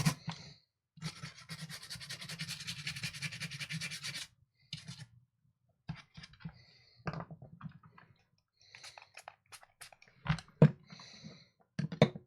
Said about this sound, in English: I'm just using isopropyl alcohol in here at the moment to clean this.